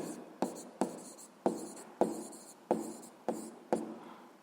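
Pen strokes on paper during a physics exercise, about seven separate scratchy bursts at a steady rhythm, each with a sharp onset that trails off, close and fairly quiet, with no talking.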